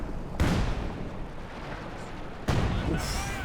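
Long-range artillery barrage in Company of Heroes 2, two heavy booming impacts a couple of seconds apart with rumbling debris between, loud and close, with a voice talking underneath.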